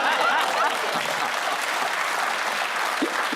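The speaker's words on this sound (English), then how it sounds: "Thank you for that ironic burst of applause." Studio audience at a British TV comedy panel quiz breaks into a steady, dense burst of applause, loud and continuous throughout with no pauses.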